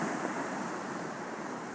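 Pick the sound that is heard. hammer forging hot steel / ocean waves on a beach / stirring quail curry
ocean waves on a beach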